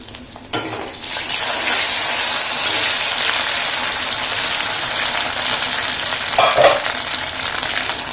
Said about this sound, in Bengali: আলু একদম ভালো করে ভাজা হয়ে যাচ্ছে